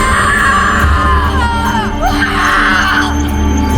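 A man screams while surrounded by evil spirits: long, loud, wavering cries and wails, dense and sustained, with a rumbling backdrop beneath.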